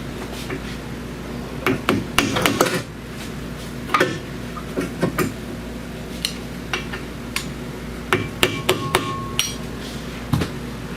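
Repeated sharp hammer strikes on metal while working on a 2012 Kia Sorento, irregular and close, in bursts with short pauses between, over a low steady hum.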